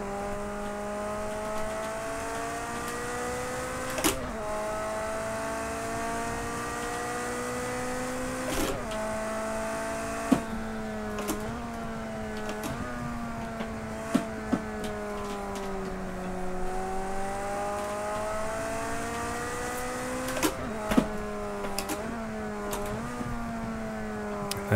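A track-tuned 400-horsepower Ferrari race car in the racing game Project CARS 2 revs and shifts through the gears, its engine whine rising and falling in repeated sweeps with sharp gearchange clicks, loud and steady with no talk.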